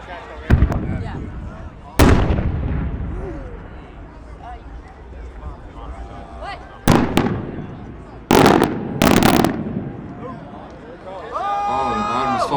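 Multi-break cylinder fireworks shell of American make bursting outdoors in Western Wisconsin, several loud sharp booms and crackling rings of reports spread across the clip, with crowd voices and chatter in between.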